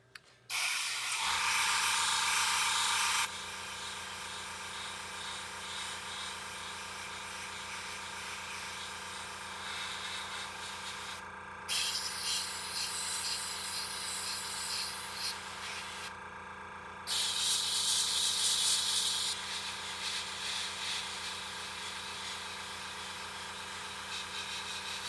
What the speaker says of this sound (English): the way I'm airbrushing, if some of that brighter green shows through, I'm okay with that